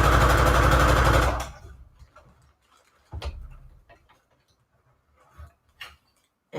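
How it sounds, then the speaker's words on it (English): A sewing machine stitching a fabric ruffle in one fast, loud, steady burst of just over a second, then stopping, followed by faint scattered handling clicks and taps. "which is just on my sewing machine, you hold it and you kind of, you know, you hold it not too tight, but you do give it some tension. And then you just stitch."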